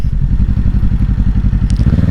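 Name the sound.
Kawasaki Ninja 650 motorcycle engine revving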